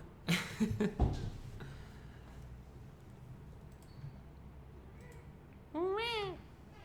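A cat lets out a single clear, rising-and-falling meow near the end, preceded by brief rustling and bumps in an otherwise quiet room.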